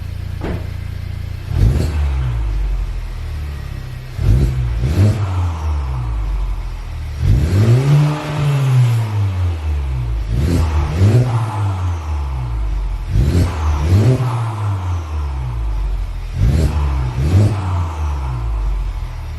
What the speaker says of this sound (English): we'll do some last revs on the stock exhaust